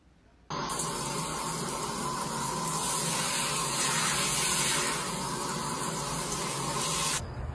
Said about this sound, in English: See the spraying the water in the shower, and it's coming out right through the exterior wall.